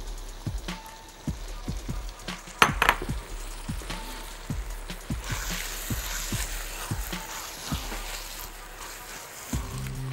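Blended tomatoes are stirred in a frying pan for pasta: a steady rhythmic series of soft scraping strokes, about two per second, over a continuous low sizzle, with an occasional clink of the utensil against the pan, close and unaccompanied by talk.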